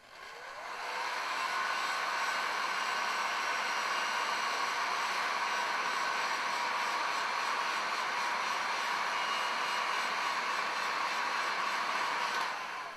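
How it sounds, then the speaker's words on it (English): A heat gun blows a steady, loud, even whooshing hiss while shrinking heat shrink tubing over a wire joint, holding constant for several seconds and then cutting off. "You can then slide your heat shrink over and shrink it with your heat gun."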